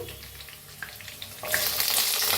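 Potatoes go into hot oil already frying green chilies and curry leaves, and a steady sizzle jumps to a louder, brighter hiss about halfway through, close and continuous with no talking.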